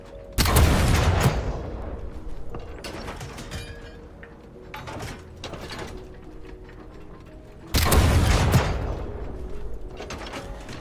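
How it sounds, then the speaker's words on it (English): A cannon in the video game Sand fires two loud booming shots several seconds apart, each followed by a decaying rumble over mechanical clanking and background game noise. "This cannon's not actually that strong, you know."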